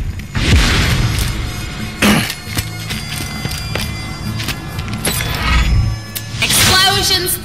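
Several heavy booms and crashes erupt at intervals in Borderlands 2, loud and close, with shattering debris and a busy game soundscape between blasts.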